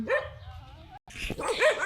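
A dog barks a few times close by, short sharp yaps with a brief gap, amid some background noise and movement.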